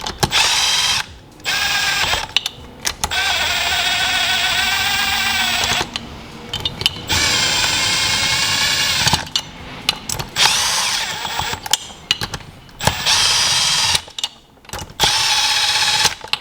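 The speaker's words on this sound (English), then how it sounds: "But I'm going to snug up these bolts, right?" A power tool whirs and ratchets in repeated bursts with short pauses while running down bolts on a Seadoo 717 personal watercraft engine during a rebuild, close and loud.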